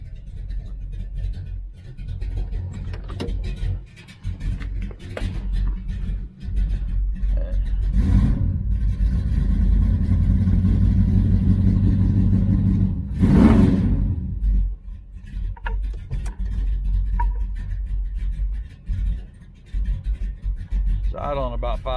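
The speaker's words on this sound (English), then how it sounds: "It's definitely idling a little low, but she's still warming up." A 1966 Dodge Charger V8 fitted with a Holley 4150 carburetor idles low while still warming up, a steady deep rumble running throughout with a brief swell in the middle and a voice talking over it.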